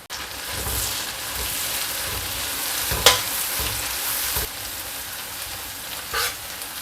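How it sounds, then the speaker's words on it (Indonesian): Chili peppers sauté slowly in reused oil for a sambal of anchovies and peanuts, giving a steady close sizzle and frying hiss with a few stirring scrapes and clinks, no talking. "Ini ditumis pelan-pelan sampai wangi."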